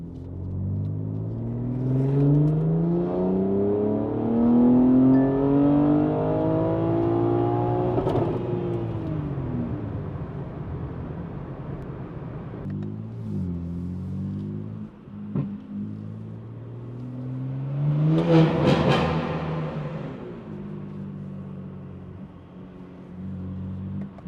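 A BMW G80 M3 fitted with a 200-cell DCE downpipe and single mid-pipe resonator delete revs hard on a dyno, the engine note climbing and pulling through long loud sweeps, with a second sharp rev burst near the end.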